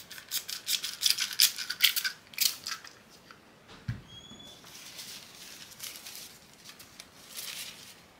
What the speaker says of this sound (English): Alright, try the spray.